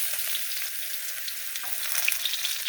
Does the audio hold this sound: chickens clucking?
no